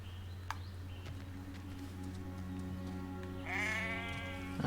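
A sheep bleats in Hogwarts Legacy, with one clear drawn-out bleat near the end over a quiet game backdrop and no talk.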